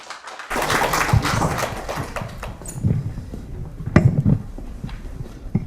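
A crowd applauding at the opening ceremony of an academic conference on local government, a steady dense patter of many hands clapping that starts abruptly and carries on, with a few louder claps standing out.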